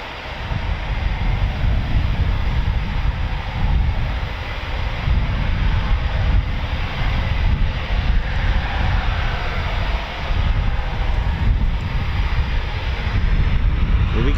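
Eurofighter Typhoon FGR4 jet engines roar at RAF Coningsby, a loud, sustained low-heavy rumble that swells and dips slightly as the fighter moves, with no talking over it.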